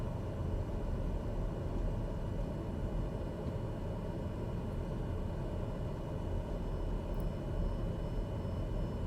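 A simulated aircraft engine in Microsoft Flight Simulator on a taxiway, throttle nudged up, gives a steady broadband roar that holds evenly, continuous and fairly loud, with no voices.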